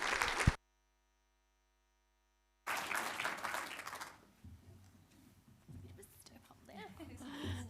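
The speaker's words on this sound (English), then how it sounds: "round of applause" An audience at a Voice to Parliament forum applauds, a short burst that cuts out abruptly and then resumes as a longer wash of clapping. It fades under murmuring and a speaker's voice.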